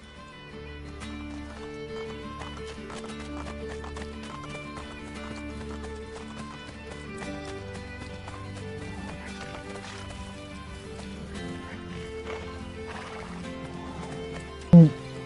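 Horse hooves clip-clopping alongside occasional whinnies over a steady Assassin's Creed Brotherhood game soundtrack with music and background ambience.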